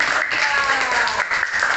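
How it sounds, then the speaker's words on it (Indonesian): Schoolchildren in a primary classroom clap their hands together in a brief, dense burst, with a voice speaking over the clapping. "Tepuk tangan."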